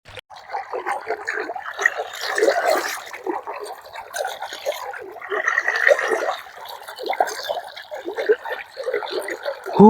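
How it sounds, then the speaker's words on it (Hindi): Cold water gushing from a pipe in an Uttar Pradesh village, a loud continuous splashing rush close by, with someone talking over it. "ठंडा ठंडा पानी निकलते हो भाई"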